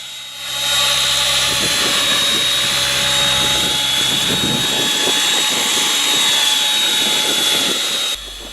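Align Trex 700 RC helicopter flying outdoors in wind, a loud steady high-pitched rotor and motor whine with a constant tonal drone held for about eight seconds, then cutting off abruptly.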